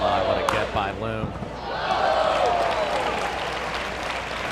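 A crowd at the Invisalign North Carolina Open pickleball doubles match breaks into applause and cheers after a rally, with a few ball pops first and commentators talking over it.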